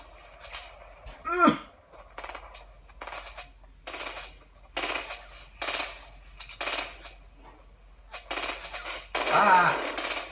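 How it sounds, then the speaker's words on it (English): Gunfire in the video game Fortnite: a string of sharp, punchy shots in uneven bursts across the scene, with a person's startled exclamations rising over the shooting near the start and again at the end. "someone's shooting at us"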